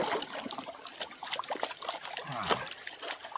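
Water sloshes and trickles in a gold pan during outdoor prospecting, with irregular splashing and dribbling close by and no speech.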